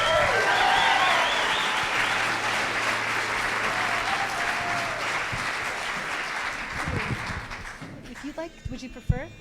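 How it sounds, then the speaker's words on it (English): Sustained audience applause at a PechaKucha presentation event in San Antonio, loud and continuous, tapering off near the end as a voice begins speaking. "Let's put our hands together"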